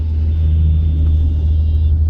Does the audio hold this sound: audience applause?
no